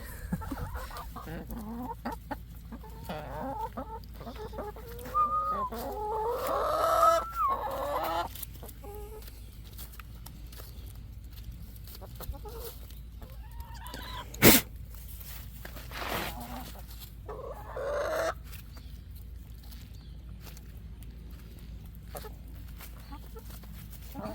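Backyard chickens cluck softly at a steady low level, with a few sharper squawks partway through and one brief loud pop near the middle.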